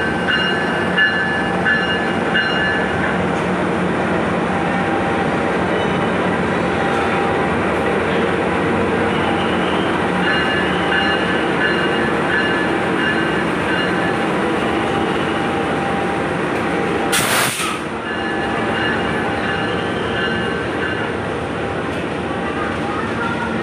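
Inside an executive-class carriage of the Pangrango train between Sukabumi and Bogor, a steady loud rumble runs throughout, with a short hissing burst near the end and faint voices underneath.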